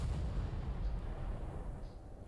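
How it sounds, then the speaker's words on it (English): A grenade blast in a horror video game booms out as a dense, rumbling explosion that fills the short moment with steady low-end roar and no talking over it. "Let me use the grenade here."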